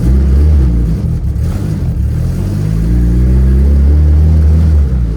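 A turbocharged, fully built Honda Civic engine revs loudly while driving, with a deep, steady, close-up drone that rises and holds under load and no talking.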